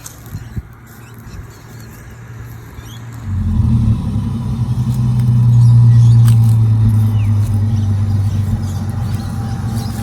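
A damaged car that hit a wall hard cranks and fires up after a few seconds of quiet, then idles and revs as a loud, low, rough engine rumble that swells and holds close by.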